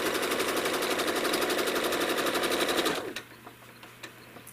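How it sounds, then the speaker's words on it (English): A home sewing machine quilting fabric, its needle hammering in a fast, even mechanical rattle for about three seconds before stopping abruptly, followed by a low hum and a few soft clicks. "And I'm going to quilt that all the way down."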